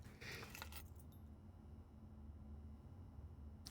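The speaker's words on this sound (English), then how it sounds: "Spare set of car keys" A spare set of car keys on a ring with a mountain fob jangles in the puzzle video game Blue Prince, a short bright metallic rattle near the start followed by quiet near-silence.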